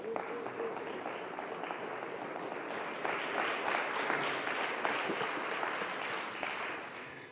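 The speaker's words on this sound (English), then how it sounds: "please give him a round of applause" An audience gives a sustained round of applause for an invited guest, a steady, fairly quiet wash of clapping that swells slightly midway and carries on to the end.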